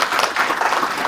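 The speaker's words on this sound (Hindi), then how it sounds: "जोरदार तालियां उनको दो" Brief, loud applause from an audience at a science talk with live practicals, a dense wash of clapping lasting about a second.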